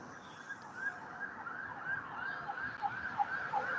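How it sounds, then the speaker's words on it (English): An ambulance siren on a highway wails faintly in the distance, its wavering pitch rising and falling steadily over low traffic rumble, with no talking. "Got an ambulance coming."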